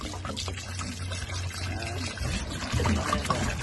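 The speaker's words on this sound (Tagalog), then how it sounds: "Lagyan natin ng tubig para" Water poured from a gallon container into another container, a continuous splashing trickle that grows fuller toward the end, heard close and faint with quiet voices nearby.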